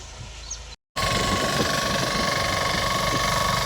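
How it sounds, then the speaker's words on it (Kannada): A tractor engine drones steadily and loudly while cutting furrows in a farm field, after a brief gap at the start, running continuously with a rough, vibrating tone and no voices. "ಟ್ರ್ಯಾಕ್ಟರ್ಲೆ ಸಾಲು ಬಿಡಾಕತ್ತಿದ್ದೀವಿ."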